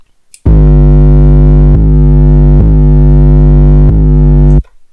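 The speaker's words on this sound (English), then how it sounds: "you want to turn up the distortion a bit, just makes it sound nice." A heavy distorted 808 bass plays four loud, gritty sustained notes in a row, booming and saturated, with nothing else around it.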